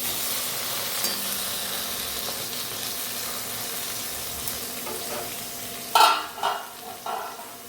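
Fish frying in a covered pan on a village kitchen stove gives a steady low sizzle throughout, broken near the end by a few louder clattering bursts as the lid is moved.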